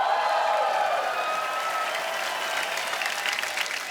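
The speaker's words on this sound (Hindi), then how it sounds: "तो जोरदार तालियां हो जाए।" Studio audience at a Hindi comedy TV show claps in a steady, dense burst of applause lasting the whole stretch, with no speech on top.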